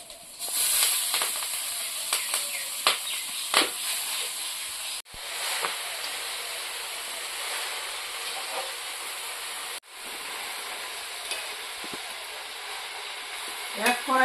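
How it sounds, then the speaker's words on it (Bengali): Spinach greens frying in garlic oil in a wok, a steady close sizzle and hiss broken by clattering stirs and scrapes, with two brief dips where the frying noise cuts out. "শাক রান্না করবো, শাক ভাজবো এখন"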